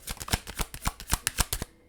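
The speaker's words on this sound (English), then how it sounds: "And I did shuffle." A deck of tarot cards is shuffled in a quick, uneven run of about a dozen crisp flicks and riffles, close and dry, with no talking.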